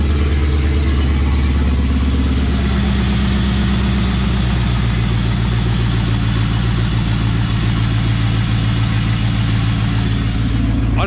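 An LS1 V8 swapped into a Nissan Patrol idles smoothly and steadily, a loud, close, continuous low rumble with even firing pulses throughout.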